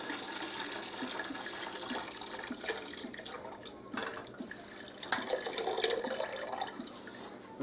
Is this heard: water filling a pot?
yes